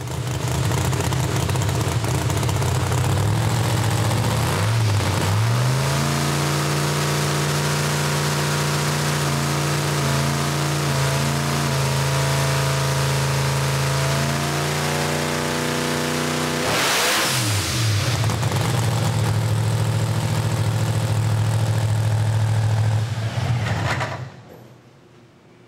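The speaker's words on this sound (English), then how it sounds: "it's just gonna pull through the gears, get it in high gear, and then roll into it hard and let it rev up to about 8 grand" A Pro Mod Hemi drag car engine revs loud and close through the gears: two upshifts with brief dips in pitch, then a long sustained climb toward high revs before the engine cuts off abruptly near the end.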